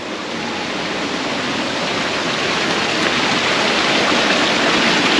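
A loud, steady rush of water flowing through channels in an old factory in Sweden, a constant roar with nothing else audible.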